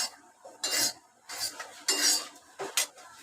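Metal utensils scrape and clink against a pan as roasted spice paste for black-eyed peas curry is moved onto a plate, coming in several short bursts of scraping separated by brief pauses.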